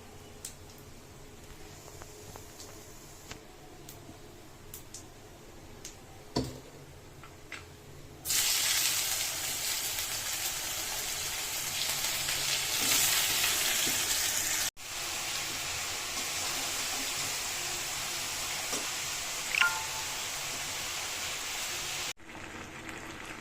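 Vegetables drop into a hot pan of oil with chili and five-spice seeds, bursting into a loud, steady sizzling hiss that holds for several seconds after a quieter start.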